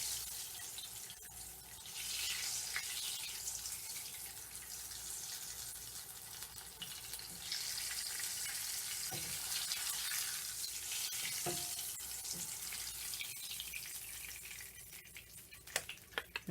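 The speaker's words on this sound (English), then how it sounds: "Okay, so we're just going to set this in the oil very quickly." Corn tortillas are dipped quickly into hot oil for enfrijoladas, producing a dense, steady hiss of frying with a few faint clicks near the end.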